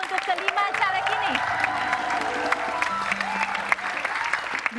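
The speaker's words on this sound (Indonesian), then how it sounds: "Kita beri tepuk tangan yang meriah untuk kelima caleg ini." An audience applauds five legislative candidates at a political event, a dense, sustained clapping that continues throughout alongside a lively crowd murmur.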